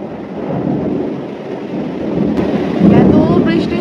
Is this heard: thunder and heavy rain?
yes